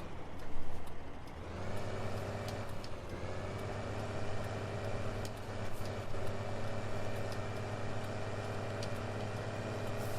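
A tractor engine in Farming Simulator 15 hauls a big trailer, a steady low droning rumble with layered harmonic hum that starts softer, then swells and holds constant and fairly loud throughout.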